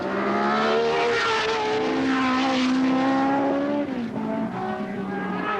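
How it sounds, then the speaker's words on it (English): Several 1970 Formula 1 race cars at the Spanish Grand Prix at Jarama, among them a Matra V12, scream loudly and steadily through a bend, with overlapping high engine notes that shift pitch as they pass close by. "Stewart fights off Beltoise through Monza Bend"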